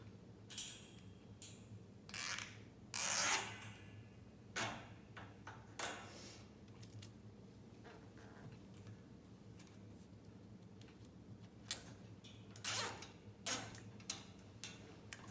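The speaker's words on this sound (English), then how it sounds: "Once again, fasten with 2 zip ties." Zip ties being pulled tight on a folding wire rack counter-top display for chips, beverages and confectionery, heard as a series of short, sharp ratcheting bursts spaced irregularly over a quiet room, with no talking.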